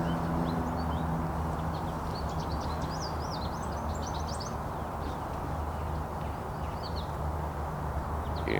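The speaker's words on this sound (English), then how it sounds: "You can just hear all the birds chirping around." Small birds chirp in a forest at Wildwood Nature Park, quick, faint, high twittering calls coming in scattered bursts over a low, constant background rumble.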